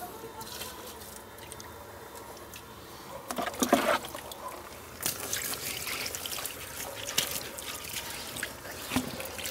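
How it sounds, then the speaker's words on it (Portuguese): Water poured onto concrete to rinse off dust at a sewer construction site, a light trickling and splashing that rises and falls in uneven bursts over several seconds. "Joga água pra tirar a poeira que você fez, né?"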